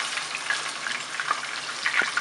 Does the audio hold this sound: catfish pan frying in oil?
yes